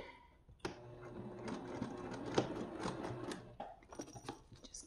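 A sewing machine runs a quarter-inch seam with backstitching, whirring steadily for about three seconds before stopping, with a few light clicks after.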